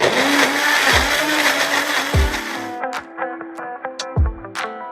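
An electric blender whirs at full power through garlic, shallots, chili and water, then stutters through several short pulses with brief pauses in between.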